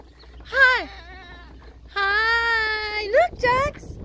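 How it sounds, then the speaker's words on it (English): A young billy goat at a farm bleats in several wavering, crying calls, fairly close and loud, with a voice and adult talk mixed in between. "Oh, it's a little billy goat."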